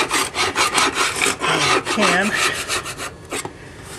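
Scenery material on a model railroad layout is scraped away after a cut, a series of close, rough rasping strokes in a steady back-and-forth rhythm with a brief squeaky scrape partway through.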